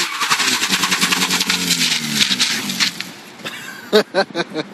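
A Mazda RX-8 rotary engine revs hard during a burnout attempt, loud rising and falling whines up close, then it cuts out and a few sharp bursts follow.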